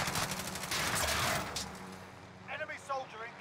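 Rapid bursts of gunfire in the Warzone video game, dense and loud for the first couple of seconds, with a player's voice briefly heard as the shooting stops.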